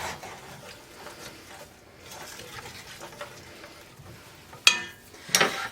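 Italian seasoning being stirred into a pot of American goulash, a soft wet scraping and sloshing with two sharper clinks of a utensil against the pot near the end.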